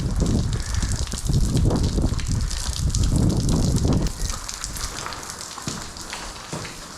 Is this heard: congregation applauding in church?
no